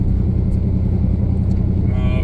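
A deep, steady sports car engine rumble with a newly installed exhaust fills the clip, loud and close, with a low throbbing exhaust tone and a faint higher whine near the end.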